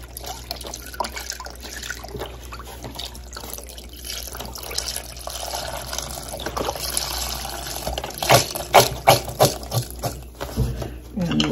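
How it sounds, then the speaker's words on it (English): Chicken broth poured into a pot of potato soup, a soft liquid splashing and trickling that builds into louder glugging pours near the end, close by. "And then pour the chicken broth in."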